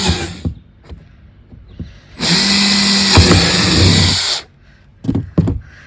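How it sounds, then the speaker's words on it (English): A power drill whirs loudly for about two seconds drilling drainage holes in a large insulated planter box, with clicks and handling knocks before and after it. "I'm going to drill a whole bunch of holes to drain the water"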